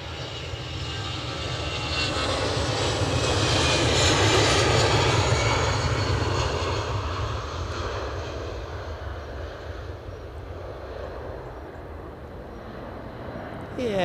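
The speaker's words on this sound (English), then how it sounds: "Looks like we've got a fast scooting ATR." ATR turboprop airliner at Edinburgh Airport, a loud, steady propeller drone that swells to a peak and slowly fades as it passes nearby, with faint talk in the background.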